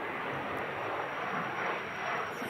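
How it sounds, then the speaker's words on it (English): A Cessna Citation jet taking off on runway 29 in strong winds, a continuous broad engine roar holding steady and moderately loud across the short stretch. "He's off and he's going like a rocket."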